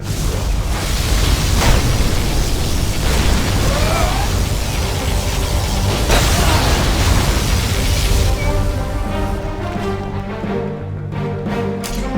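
Particle cannon strikes from C&C Generals Zero Hour explode in a dense, sustained rumble of booms and bursts, loud and continuous, thinning out toward the end.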